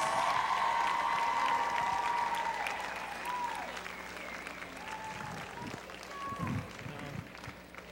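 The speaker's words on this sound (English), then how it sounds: "Let's give them a big round of applause." Crowd applause fills a high school gym for the senior athletes, loud and steady at first, then thinning out as PA announcements and scattered voices come through.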